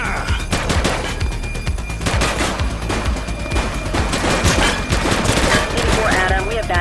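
Sustained gunfire from the police action game The Precinct, rapid overlapping automatic bursts and shots filling the whole stretch at close, loud level with no pause.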